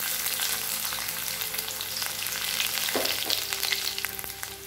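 Steady crackling sizzle of finely chopped garlic frying in hot oil, with a couple of brief stirring scrapes partway through; no voices.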